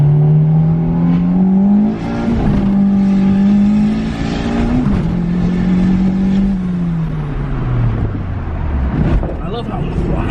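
A boosted Honda Civic wagon on a street tune drive, its engine note holding a low steady drone that rises and falls gently as it accelerates, with someone talking over the quiet cabin sound.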